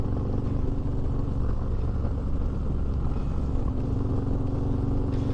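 A motorcycle engine, freshly rebuilt to stage 4 during break-in, idles at low RPM with a loud, steady, throbbing rumble that holds unchanged from start to finish, close to the listener.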